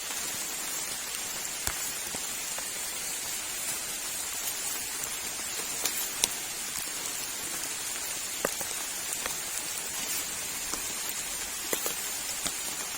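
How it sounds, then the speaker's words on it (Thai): Steady rain falls with a dense, even hiss, scattered louder drops pattering close by throughout, no voices. "ฝนตก"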